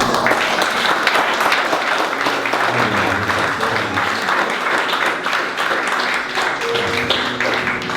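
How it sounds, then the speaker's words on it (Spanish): Church congregation applauding together after a prayer, a steady dense wash of clapping filling the room for the whole stretch, with scattered voices faintly mixed in. "Dale ese aplauso."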